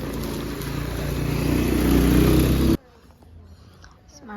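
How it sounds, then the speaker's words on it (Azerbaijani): A motorcycle arriving slowly outdoors, its engine hum growing steadily louder and closer for nearly three seconds before cutting off abruptly, leaving only faint background noise. "Yavaş motosiklet geldi."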